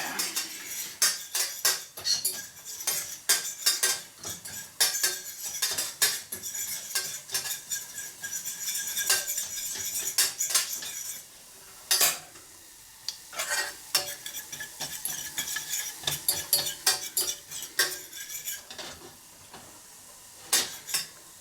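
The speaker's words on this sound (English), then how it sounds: "we're not actually cooking the spices. We just want to heat them so the flavors come out" Spices dry-roasting in a hot pan while being stirred, with a steady sizzle and frequent sharp scrapes and clinks of a utensil against the metal, close and continuous with no talk.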